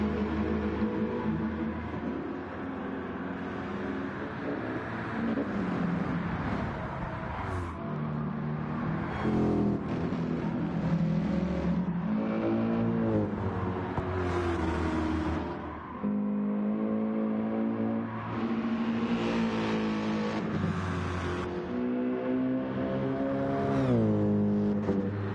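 GT3 and GT4 race cars lapping the Barcelona circuit, their engines droning and shifting pitch as they accelerate and pass, heard at a distance as a continuous layered roar.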